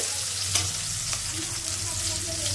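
Onion frying in a pan until reddish-brown, a continuous close sizzle with a few stirring clicks and scrapes, steady and fairly loud throughout.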